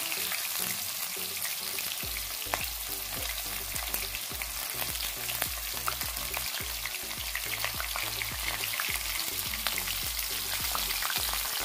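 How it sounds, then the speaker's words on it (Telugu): Curry leaves and sliced onions fry in oil in a pan over a medium flame for a prawn fry, giving a loud, continuous close-up sizzle with dense crackling and rhythmic stirring knocks throughout. "ఉల్లిపాయలు వేసుకుని ఇవన్నీ మనం కొద్దిగా మీడియం ఫ్లేమ్లో పెట్టుకొని ఫ్రై చేసుకోవాలి"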